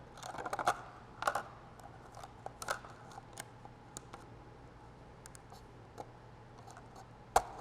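Scissors snip through a plastic cup being shaped into a bucket for a small DIY catapult: sparse, crisp cuts spaced irregularly, a quiet stretch in the middle, and one sharper, louder snip near the end.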